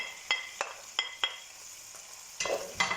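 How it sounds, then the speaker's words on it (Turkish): Onions sizzle softly in oil in a pan while a utensil stirs them in quick, scraping strokes, with short pauses between strokes. "Soğanlarla beraber 1-2 dakika soteliyorum."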